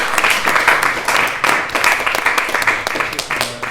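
An audience applauds after an eloquence contest, a dense, loud burst of clapping sustained throughout with slight swells, close by, and no voices standing out.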